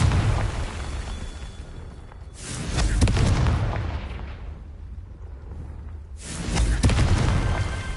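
Bombarda and Confringo spell blasts in Hogwarts Legacy go off as two heavy booming explosions a few seconds apart, each swelling loud and close and then dying into a low rumble.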